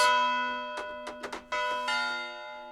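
Tubular bells from an orchestral percussion sample library ring out in several metallic strikes, a sustained bright clang followed by a few quick hits and a fresh ringing stroke, with no talk.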